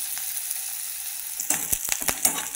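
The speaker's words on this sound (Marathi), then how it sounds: "कांदा असा छान परतून घ्यायचा, तो असा हलवत राहायचा।" Onion sautéing in oil in a pan gives a steady soft sizzle, then a spoon stirring it adds a few scraping, clattering strokes over the frying, close and moderately quiet.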